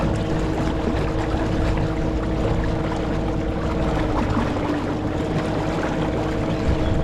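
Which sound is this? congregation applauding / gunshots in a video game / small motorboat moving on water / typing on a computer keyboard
small motorboat moving on water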